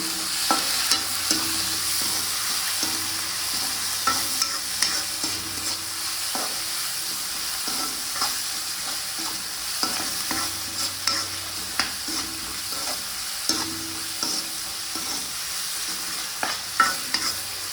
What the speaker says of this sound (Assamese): এতিয়া ধুনীয়াকৈ লৰাই দিম।